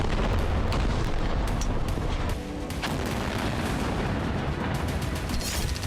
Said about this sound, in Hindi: हर तरफ हर वक्त जबरदस्त बमबारी हो रही है